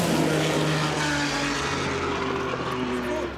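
A Porsche 12-cylinder engine at a Porsche sound night event, a loud, dense, steady roar with smooth rising and falling tones, sustained throughout and heard up close.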